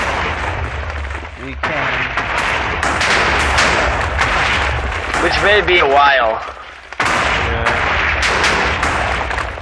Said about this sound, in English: Once this explosion finishes